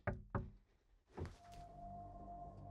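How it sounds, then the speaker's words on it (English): Two sharp knocks close together in a quiet house during a paranormal investigation, followed by a duller thump and a faint hum, with no one speaking. "I heard a knock."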